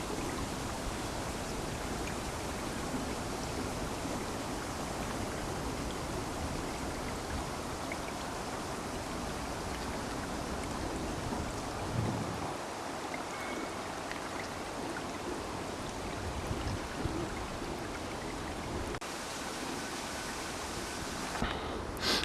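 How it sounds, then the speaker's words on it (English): A little stream feeds the falls in Shukkeien Garden, Hiroshima, giving a continuous close rush and trickle of running water that stays even throughout without any voices. "this is the little stream that provides the water for the falls."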